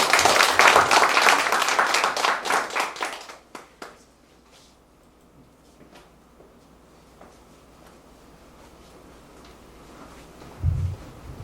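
Audience applause after a lecture on food waste, resource recycling and carbon neutrality: a burst of dense clapping from a hall that tapers off within a few seconds, followed by quiet room tone and a few faint knocks.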